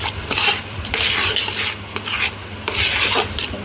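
A spoon scrapes and stirs cashews and almonds through warm jaggery and ghee in a pan while making Gujarati sukhdi. The rasping strokes repeat in an uneven rhythm, close and fairly loud, with a faint sizzle underneath.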